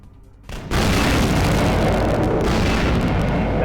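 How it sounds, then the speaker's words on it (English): Grenade launcher explosions in Vampire the Masquerade Bloodlines, a sudden loud boom that swells into a sustained heavy roaring rumble, close and unbroken. "He's actually using the grenade launcher here."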